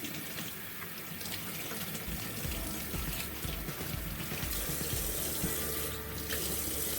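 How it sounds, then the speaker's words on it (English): Salted baby carrots being rinsed for kimchi under a running kitchen tap: a steady, close rush of water splashing into a sink, with brief shifts as the stream hits the carrots. "Rinse it well."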